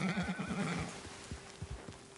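Horse in Red Dead Redemption 2 giving a loud, quavering whinny close by, followed by several hoof clip-clops and stamps as it moves.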